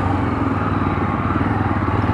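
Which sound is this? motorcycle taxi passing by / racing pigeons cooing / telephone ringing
motorcycle taxi passing by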